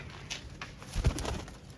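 A female pigeon gives a brief, soft, throaty coo close by, with light rustling around it and no one speaking.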